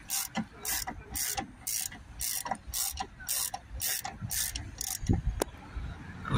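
A ratchet fitted with a 10mm socket clicks in quick repeated bursts while undoing a small bracket on a Ford Ranger 2.0 BiTurbo, with short pauses between strokes, close and distinct.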